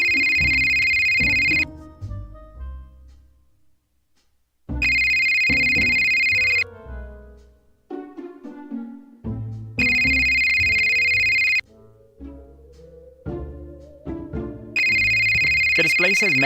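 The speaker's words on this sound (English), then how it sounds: "a phone suddenly starts ringing" A telephone rings in the adventure game Scott Whiskers in loud, regular bursts of about two seconds, repeating four times, with a voice speaking in the gaps between rings.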